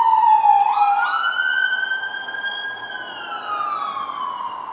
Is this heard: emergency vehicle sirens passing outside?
yes